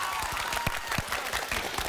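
An audience at a Korean lecture-concert claps to vote for a candidate: steady, close crowd applause throughout, with a few sharper individual claps standing out.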